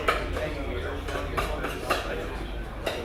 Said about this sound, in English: Now this is our couscous salad. Here's the same one. And I'm just going to mix it all up.